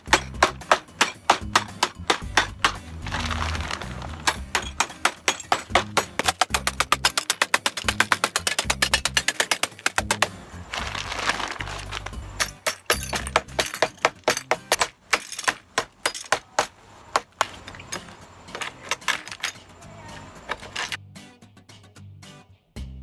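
A glass interior door panel is struck again and again with an improvised tool, not a hammer, then breaks; dense sharp cracks and tinkling shards repeat over about twenty seconds, close and loud, thinning toward the end.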